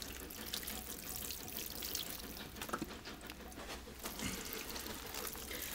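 Water pours steadily onto garden plants as they get a dose of composted cow manure tea, a continuous close splashing wash with no break.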